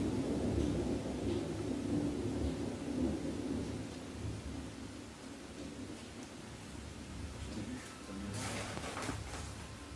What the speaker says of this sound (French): Vous pouvez entendre l'orage.